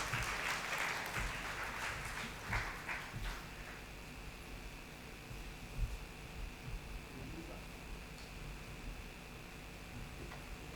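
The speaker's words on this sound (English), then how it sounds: "with a big round of applause" Applause from a crowd at an indoor hotel celebration event, fairly distant, with dense clapping at first that thins into scattered claps and room noise.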